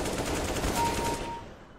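Rapid bursts of automatic gunfire crackle in quick succession, fairly loud, then fade out toward the end.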